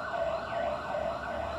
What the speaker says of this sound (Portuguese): toca a sirene aí homenageando o Fluminense